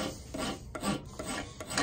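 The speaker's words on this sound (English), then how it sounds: "I'm just hand filing this whole knife into the shape I want." A hand file rasps over a carbon steel knife blade in steady back-and-forth strokes, close and fairly quiet, with no other sounds.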